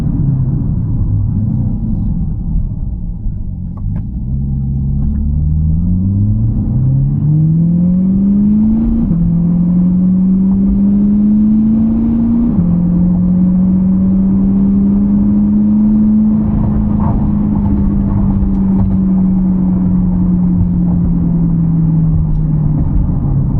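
Car engine droning steadily from inside the cabin on a drive to a car wash, pitch rising through several gear shifts, then holding a smooth cruising hum with constant road rumble.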